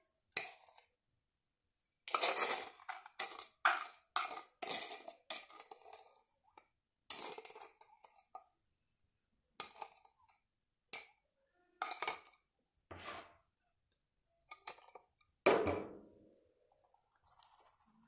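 Homemade natural exfoliant being scooped and dropped into a storage container, a series of short, close clinks, taps and soft squishy scrapes in irregular bursts with quiet pauses between.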